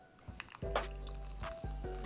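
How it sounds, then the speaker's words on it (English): G-Fuel drink poured into a glass, a short bubbly gurgle with a drip or two, close and quiet over faint background music. "let's go ahead and pour this a glass of this Tetris"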